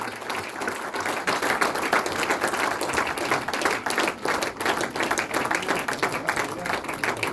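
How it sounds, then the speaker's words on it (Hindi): Audience clapping at a university National Sports Day celebration honouring a football coach, a fairly dense round of applause with a speaking voice over it, moderately loud and continuous. "जोरदार तालियां।"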